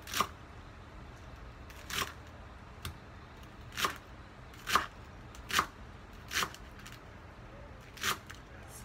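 A knife slices through ingredients for a ground meat dumpling filling on a board, about nine crisp, separate cuts at a steady rhythm, close and fairly quiet, with no voices.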